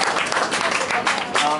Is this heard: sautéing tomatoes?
no